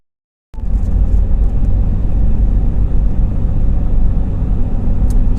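A 2011 Ford F150 EcoBoost pickup on a road test after a bypass valve diaphragm replacement gives a steady, loud low engine and road rumble from inside the cab, starting abruptly after a brief silence and holding constant throughout.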